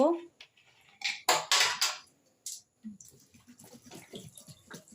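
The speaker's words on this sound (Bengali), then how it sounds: "এবার জল দেব দিয়ে প্রেসার কুকারে ঢাকা দিয়ে আমি সিটি দিয়ে নেব" Water poured from a vessel into a pressure cooker for a fig curry, a few short loud splashing gushes that stop and start, followed by quieter clinks and a voice talking.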